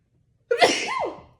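One sharp, close human sneeze breaks a brief silence, with a rising burst and a trailing exhale.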